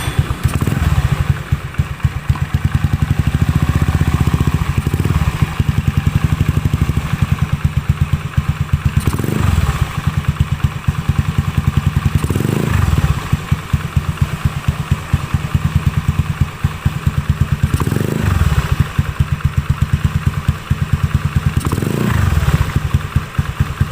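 A Honda Beat motorcycle fitted with a PE 24 CPO carburetor runs steadily nearby, a loud continuous engine drone with rhythmic clatter and periodic revving swells every few seconds, no voices.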